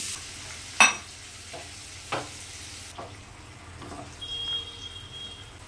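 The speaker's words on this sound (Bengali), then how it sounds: "সেই লাউটা, সেদ্ধ করা লাউটা আমি এবারে ফ্রাই প্যানে" Boiled bottle gourd hits a hot frying pan with a sharp clatter and sizzle, then spatula stirs scrape and knock a few times over a quieter frying hiss.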